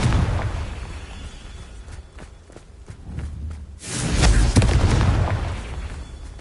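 A Confringo fire spell explosion in the game Hogwarts Legacy, a deep booming blast rumbling out after a few quieter thuds and footsteps, loud and close.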